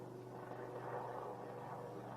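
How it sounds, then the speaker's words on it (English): A helicopter passes overhead, a steady droning rotor hum that holds at a moderate, fairly constant level throughout, with no voices. "Bloody helicopter."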